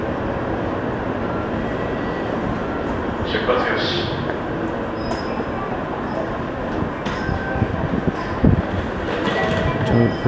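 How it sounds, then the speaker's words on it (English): A fast train between Kyoto and Nagoya rumbles steadily from inside the carriage, with a dense, continuous roar, occasional clicks and brief higher whines, and faint voices underneath. "It's a very fast train ride."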